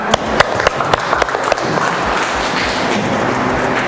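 A classroom of automotive engineering students claps for a correct answer about checking battery voltage: a few sharp, separate claps at first, then a denser, even burst of clapping that continues to the end.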